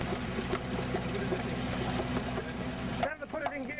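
A boat motor runs at a steady close drone on a pearling trip, then the pitch shifts abruptly as it is put into gear, with a voice talking over it.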